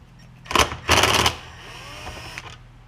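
A powered driver with a 1/4 hex bit backs screws out of a Husqvarna leaf blower housing: two short, close whirring bursts in quick succession, then a quiet pause with a faint click.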